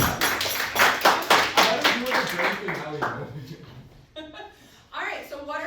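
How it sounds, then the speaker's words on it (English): A classroom group claps together in a burst of many hands, dense and fairly near, fading out after a few seconds into quieter room sound and a few scattered voices. "did we clap? Yes, I hear"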